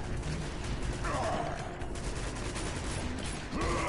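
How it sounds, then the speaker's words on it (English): Gunfire in the action game Uncharted crackles in a steady, fairly loud barrage over several seconds, with a faint voice talking over it. "Oh, someone firing?"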